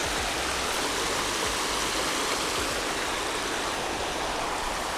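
Running creek water rushes in a steady, dense broadband wash, loud and close, with no pauses or voices.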